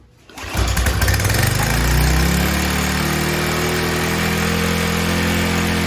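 A roughly 8-year-old Troy Bilt pressure washer engine catches on a pull start, revving up quickly and then settling into a loud, steady running drone close by for several seconds.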